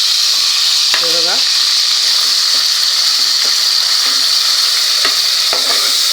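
Ginger garlic paste and ground masala sizzle loudly in hot oil with cumin seeds, a dense continuous hiss close up with a few faint clinks of a utensil.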